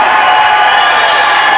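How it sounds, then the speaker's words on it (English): A large crowd at the 1993 European Swimming Championships in Sheffield roars with steady, sustained cheering that fills the whole clip without a break. "Hear the noise from this crowd in Sheffield"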